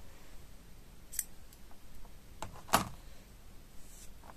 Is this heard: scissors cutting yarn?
yes